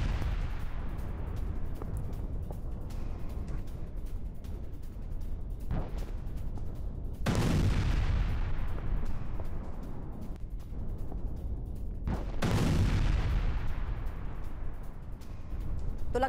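Explosions from a Russian strike on a Ukrainian weapons warehouse: two big booming blasts about five seconds apart, each followed by a long rumbling roar, over a constant low background rumble.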